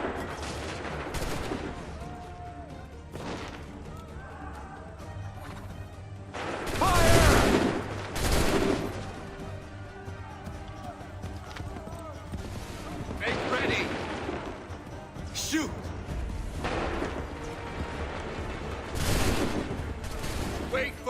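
Musket volleys ring out in Assassin's Creed III, several loud broadband blasts rolling across the battlefield with the biggest burst near the middle, over constant rumbling battle noise and shouted commands.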